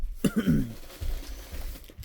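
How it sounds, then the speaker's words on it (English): A single short cough up close, followed by faint rustling and low background noise. "I've been coughing a little bit."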